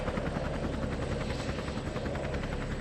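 Steady pulsing whop of Huey helicopter rotors with a continuous engine drone, even in level from start to finish.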